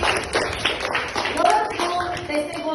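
Children applaud a group in a classroom, giving a dense patter of claps mixed with voices talking over it throughout.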